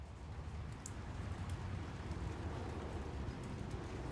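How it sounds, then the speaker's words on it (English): Steady rain falls outdoors, a soft continuous patter with a few faint droplet ticks, quiet and distant, with no talking. "Is it still raining"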